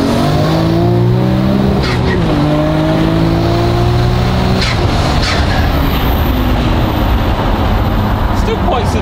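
A 700-horsepower Nissan R34 GTR with an HKS stroker kit accelerates hard, its engine climbing through the revs in several stepped pulls as the gears change. The sound is loud and heard from inside the car, with talk over it.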